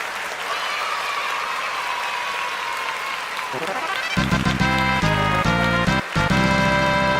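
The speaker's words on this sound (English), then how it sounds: "let's all celebrate and clap it up for Twisted Pup for completing the Udemy cybersecurity course" Clapping celebrates the completion of a Udemy cybersecurity course during a live tech Q&A call-in stream. It starts as a steady broadband patter for about four seconds before loud music cuts in and dominates.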